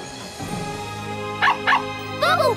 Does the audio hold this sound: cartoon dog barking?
yes